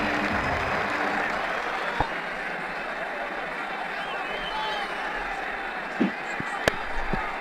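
Crowd applause in the Ashes Cricket 2009 video game after a six, a dense steady wash of clapping with a few sharp clicks near the end.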